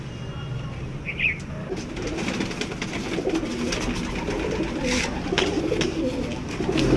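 Indian Pulsar pigeons coo softly nearby in a loft, low repeated throaty calls over a faint background murmur, with a brief higher chirp early on.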